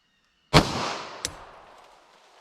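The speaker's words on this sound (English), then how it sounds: "So let's see how close we get to 1060 feet per second out of this 5-inch pistol." A single loud 9mm pistol shot from a 5-inch barrel firing Federal Hydra-Shok 135 grain ammunition, a sharp crack with a ringing decay, then a short metallic click as the casing lands.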